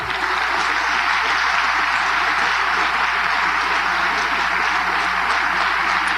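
A church congregation applauds loudly and continuously, a dense, even wash of clapping that fills the whole stretch without a break.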